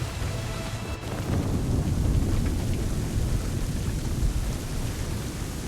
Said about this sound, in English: Cover from this storm, Captain!